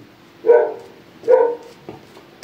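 A dog gives two clear, loud barks about a second apart, followed by a fainter short yip, with no one talking.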